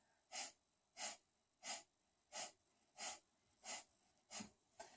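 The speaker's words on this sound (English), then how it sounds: "we're going to do a very specific breath. The breath of fire," Seven sharp, forceful breath-of-fire yoga exhalations through the nose, evenly spaced in a steady rhythm, close and fairly quiet with silence between each burst.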